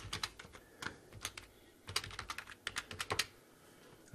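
Rapid computer keyboard typing as login credentials are entered for API security scanning, a close, steady burst of clicky keystrokes in irregular clusters, alone with no voices.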